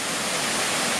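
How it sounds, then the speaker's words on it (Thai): A waterfall in a natural setting beside a resting butterfly roars with a steady, loud, broadband rush that fills the whole moment with no pauses. "อยู่ใกล้น้ำตกทำให้เสียงน้ำตกรบกวน"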